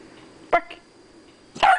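A dog barks twice, short sharp barks about a second apart, close by in a quiet room.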